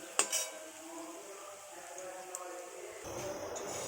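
Potato pakoras frying in hot oil, giving a steady close sizzle with a sharp utensil clink at the start and a few stirring scrapes, growing a little louder near the end.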